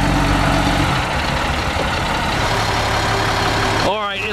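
A loud, steady army truck engine idles close by with a low rumbling drone, ending with a brief rising whine near the end.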